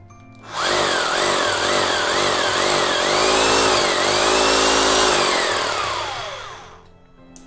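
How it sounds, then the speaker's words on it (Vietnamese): A Makita drill runs in hammer drilling mode with a loud, steady rattling whine. It revs up and down slightly for about six seconds, then winds down, with no voices. "Chức năng khoan búa."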